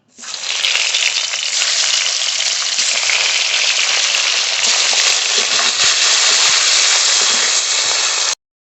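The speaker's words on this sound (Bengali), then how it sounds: "কমলি শাকের ঘন্টার জন্য ইলিশ মাছের মাথা ভেজে নেব।" A hilsa fish head frying in hot oil in a home kitchen, a loud, continuous crackling sizzle close by that starts abruptly and runs steadily, with no voices.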